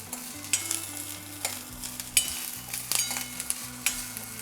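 Ingredients for Nagpur-style tarri poha masala roasting in a little oil in a pan while being stirred, with soft continuous sizzling and scattered clicks of a spoon against the pan, close and fairly quiet.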